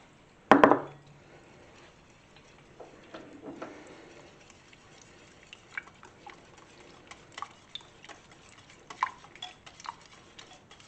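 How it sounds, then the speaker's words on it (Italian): Crepe batter of flour, eggs and milk being stirred in a bowl: one sharp knock at the start, then soft, steady scraping and light irregular taps of the utensil, close and fairly quiet, with no talk. "La aggiungiamo e continuiamo a mescolare."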